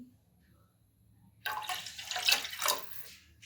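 After a quiet moment, water suddenly splashes and gurgles as it is poured into a pot of moraiyo (barnyard millet), a close, burbling stream that swells and then eases.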